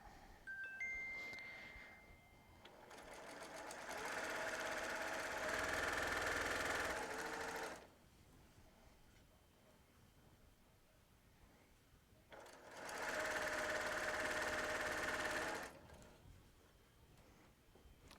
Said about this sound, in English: Put it back down and just start stitching from the end.